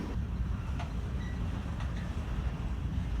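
A continuous low rumble of a passing freight train, steady and moderately loud, with faint clicks of wheels over track joints and no voices.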